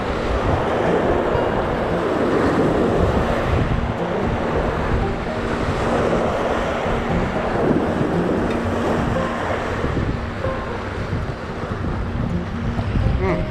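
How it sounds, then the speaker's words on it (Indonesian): Strong wind roars at a sea estuary during a fishing session, a steady loud rush of air and surf buffeting the microphone throughout with no break. "Anginnya kencang banget bos."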